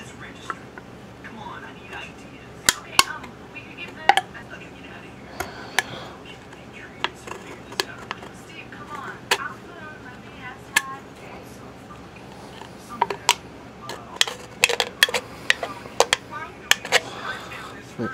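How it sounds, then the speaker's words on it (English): An X-Acto knife scores and cuts through a thin aluminum soda can, giving close, scattered sharp scrapes and clicks in uneven bursts, with a quiet voice murmuring underneath. "now I'm just gonna cut it using an X-Acto knife, and I like to score down it partly first"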